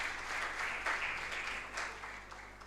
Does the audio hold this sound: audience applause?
yes